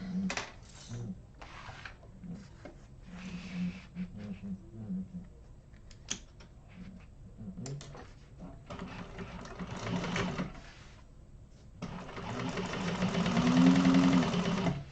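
A sewing machine runs strengthening stitches in short, stop-start bursts of rapid needle clatter, ending in a longer, louder continuous run.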